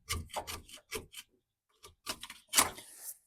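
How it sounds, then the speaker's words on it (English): A screwdriver scraping built-up gunk off a Volkswagen Beetle axle, a series of short, uneven rasping strokes in bursts, close and fairly quiet, with a gap in the middle before a few more harsher scrapes. "It's kind of quite a bit of gunk build up over the years, so just scraping it off with a screwdriver"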